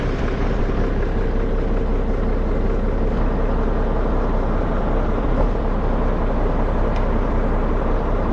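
An Allis-Chalmers tractor engine runs at a steady idle, a continuous, close, unchanging rumble with no voices over it.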